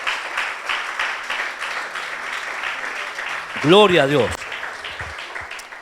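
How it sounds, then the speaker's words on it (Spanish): Church congregation applauding for Jesus Christ, a steady dense clapping wash throughout, with a voice briefly rising over it in an emphatic exclamation near the end. "Dele ese aplauso a Jesucristo"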